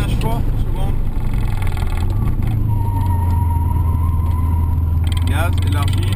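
A Subaru Impreza WRX engine drones steadily on a racetrack while a coach talks the driver through gear changes, the engine note shifting as the car climbs into third under continuous close speech.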